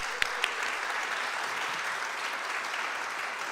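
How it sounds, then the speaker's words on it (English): Audience applause for author Rob Sanders at a Pride book launch for Queer and Fearless, a steady wash of clapping from a moderate crowd, with two sharper claps standing out at the very start. "Please give Rob a round of applause."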